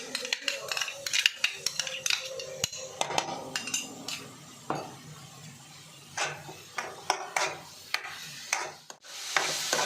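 A spoon scrapes and clinks against a pan while stirring ginger-garlic paste into frying onions for a drumstick gravy. The strokes come in irregular, close strokes over a faint low sizzle.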